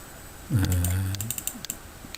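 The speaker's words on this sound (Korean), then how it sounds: "블록을 설정하고 키보드에 한자 키를 누르고요." Keys tapped on a computer keyboard while selecting text and pressing the hanja key in a spreadsheet lesson, a few quiet clicks heard near and close under a brief low voiced sound.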